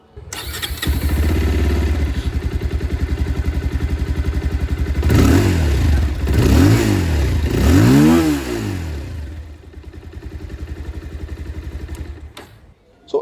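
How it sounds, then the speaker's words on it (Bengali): A 2025 Bajaj Pulsar 220F motorcycle engine idles loudly with a throbbing exhaust, then revs up in several rising and falling bursts before settling back and cutting off. "তাহলে আপনাদের আমি এক্সস্ট সাউন্ডটা নতুন মডেল দিয়ে শুনিয়ে দিই"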